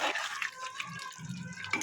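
Hot water is poured into a cooking pot in a short splashing, gurgling stream, close and moderately loud.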